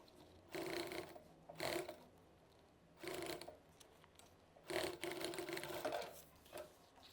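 Short bursts of stitching from a sewing machine work on the lining of a mini backpack. Four or five quiet, brief runs are separated by pauses, sounding close but faint, with no speech.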